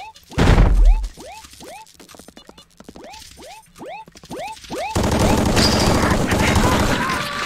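Video game gunfire in a swamp deathmatch: a quick run of about a dozen rhythmic shots with springy ricochet-like tones, followed by a dense loud burst of firing and clatter, close and continuous.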